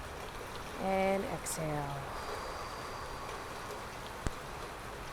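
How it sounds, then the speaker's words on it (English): Steady rain hisses outdoors as a constant broadband wash, while a calm voice speaks briefly over it and a soft tap sounds near the end. "I hope you can hear me with this rain."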